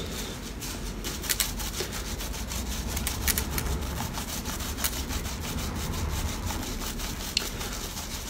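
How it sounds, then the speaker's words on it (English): A sponge loaded with foam rubs over a sterling silver picture frame in a steady back-and-forth scrubbing rhythm, close and continuous with no talk. "a bit of this foam onto sponge and gently just start rubbing away"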